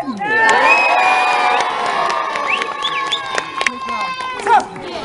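A crowd of children and adults cheers and whoops loudly on command at Belsay Castle, sustained shouting with rising calls and a few sharp bursts near the end.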